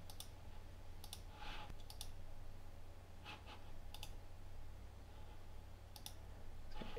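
Computer mouse clicks while working in Fusion 360 CAD software, several quick double clicks spaced a second or two apart, crisp and close over a faint steady room hum.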